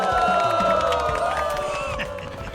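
A video-game crowd cheers and shouts at an idol concert in a Yakuza game, a dense wall of excited voices and whoops that fades slightly, with a bright tone running through it.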